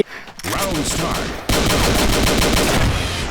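Rapid gunfire in the online shooter Combat Arms Reloaded, loud close bursts of automatic fire with a brief pause then a sustained stream of shots, dense and continuous, no speech over it.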